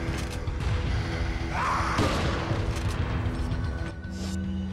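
A Broken Butterfly magnum fires once in Resident Evil 4, a heavy boom with a mechanical clatter, set among game ambience and other effects.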